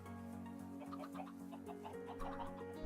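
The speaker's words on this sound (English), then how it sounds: "Look at all the chickens." Chickens in a modded Minecraft game cluck softly in short, scattered bursts over a quiet, steady tonal background.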